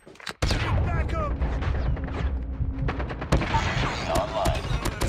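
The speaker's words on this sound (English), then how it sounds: "Sentry gun deployed." Rapid gunfire from a deployed sentry gun in Call of Duty rattles in bursts over a busy battle soundscape, with sharp loud shots near the start and more bursts later amid other combat noise and voice callouts.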